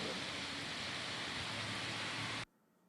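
Steady rain falls in Thane, a dense even hiss that holds for about two and a half seconds before cutting off abruptly, with no voices over it.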